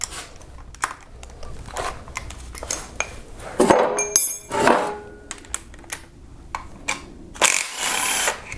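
Metal tools clink and ratchet against a Kia Optima engine as 10 and 12 mm timing cover bolts are loosened, giving sparse close taps and short scraping bursts with quiet gaps.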